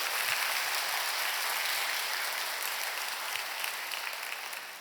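A church congregation applauds during a worship service, a dense, steady wash of many hands clapping together that carries on for about five seconds and fades slightly toward the end.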